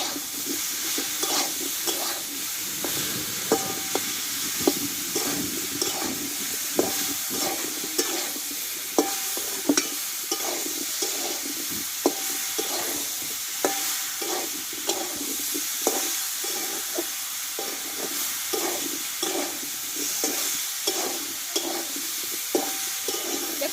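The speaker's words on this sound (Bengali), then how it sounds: "মশলাটা দেওয়ার পরে কিন্তু ভালোভাবে ভেজে নিয়েছি" Ground spice paste for a raw mango jaggery pickle frying in a pan, a steady loud sizzle with regular scraping strokes of a spoon stirring throughout.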